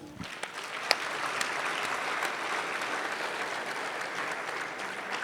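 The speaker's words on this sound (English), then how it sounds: "We can give him a round of applause." Sustained applause from the floor of the Hawaii House chamber on opening day, greeting Representative Joe Gideon; dense, even clapping holds steady throughout at moderate distance with no voices over it.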